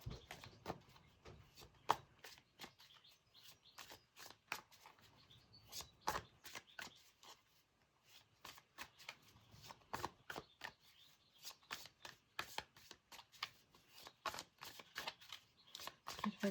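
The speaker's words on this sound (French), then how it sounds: "on va prendre une dernière carte pour clôturer ce petit tirage des énergies du moment" Oracle cards shuffled by hand for a card reading, giving a long run of crisp, rapid flicks and riffles close to the microphone, soft and steady, with occasional quiet speech.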